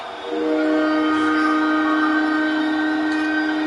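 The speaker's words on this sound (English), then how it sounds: "There's that train whistle that we hear in Buffalo all the time." A train whistle near the Buffalo football stadium during an NFL game, a long, loud, sustained tonal blast that holds steady over a dull crowd-and-broadcast background.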